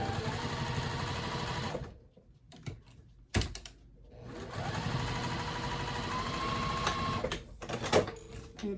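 A sewing machine stitches the seams of a quilted boxy bag in steady close whirring runs, stopping in a short quiet gap before the stitching starts again.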